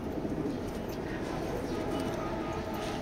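Pair of grizzle racing pigeons with red eyes, a male in a cage and a female, cooing softly in a low murmur under a steady background hum.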